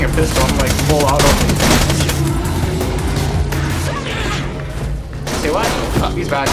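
Pistol shots and full-auto bursts from Borderlands 2 gameplay, rattling almost continuously at close range under excited talking from players.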